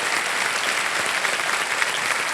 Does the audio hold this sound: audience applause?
yes